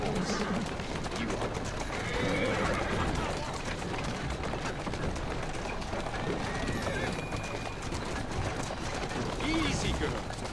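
A horse in the Assassin's Creed Syndicate video game clip-clops and whinnies amid a dense, steady wash of game noise and background activity, with a voice speaking over parts of it.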